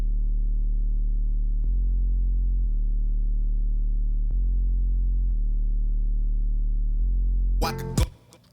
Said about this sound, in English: So that's super subby bass.